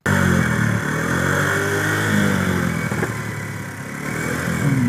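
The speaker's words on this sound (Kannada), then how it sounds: "ಗಾಡಿ ಸೌಂಡ್ ಆಗ್ತಾ ಇದೆ, ಮೋಸ್ಟ್ಲಿ ಬರ್ತಾ ಇರಬೇಕು" A motor vehicle, likely a scooter or motorbike bringing petrol, running steadily nearby with a continuous mid-pitched engine drone that swells slightly, no speech over it.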